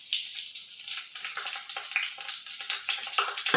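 Cumin seeds, dried chili and bay leaf hit hot mustard oil in a kadai, giving a steady close crackling sizzle with small pops and bursts all the way through, with no talking.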